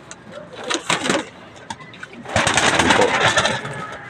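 Pigeons in a small loft, cooing and fluttering close by in bursts, with a brief spoken remark and a louder rustling stretch toward the end.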